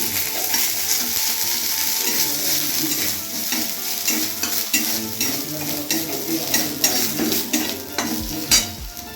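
Minced garlic and ginger sizzle steadily in hot oil in a pan for soup, with a spoon stirring and scraping through the close, continuous frying hiss.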